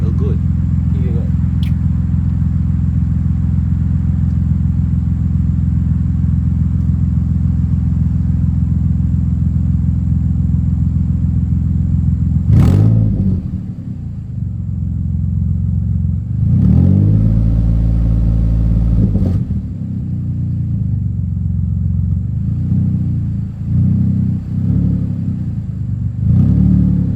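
Nissan G35 fitted with a new exhaust, idling with a deep steady rumble before a few short blips of the throttle send it into loud rising revs, then it settles back between bursts.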